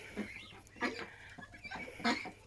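Hens cluck in short, uneven calls on a small home farm in the morning, near and moderately loud, with a faint low hum behind them.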